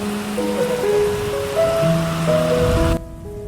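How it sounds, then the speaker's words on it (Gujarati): Heavy rain pours down beside a rural road next to a farm field, a steady, dense hiss with faint tonal sounds mixed in, cutting off abruptly near the end. "ફૂલ વરસાદ આવ્યો છે."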